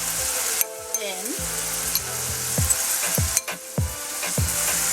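Seasoning stirred into onions and peppers sizzling in a pan for St. Kitts saltfish, a constant loud frying hiss with several utensil scrapes and clinks against the pan, close up.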